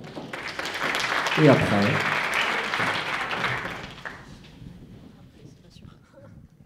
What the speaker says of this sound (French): On peut les applaudir avant